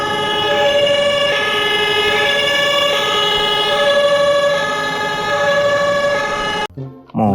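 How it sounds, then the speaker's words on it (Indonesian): Toy fire truck siren wailing in a steady electronic rising-and-falling tone for several seconds, loud and close with no talk, cutting off abruptly near the end. "Mobil pemadam kebakaran ya teman-teman."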